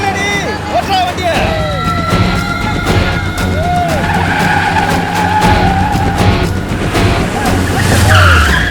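A car drives off with its tires skidding and squealing in repeated sharp chirps over a loud, steady engine roar, while voices are heard in the background.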